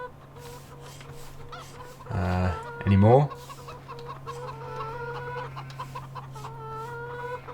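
Chickens cluck in two short, loud bursts in Farming Simulator 2015 over a steady electronic hum, with a voice speaking briefly and soft game-like ambience continuing underneath.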